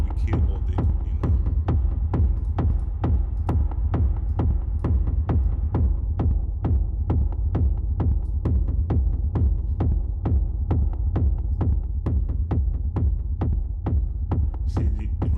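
A steady, booming kick drum made in Reason thumps in a fast regular rhythm throughout, each hit trailing off with a reverberant tail.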